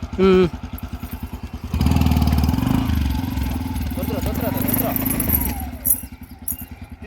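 A motorcycle engine revs up and runs with a rough, pulsing rumble, close by, after a few short engine putters at the start.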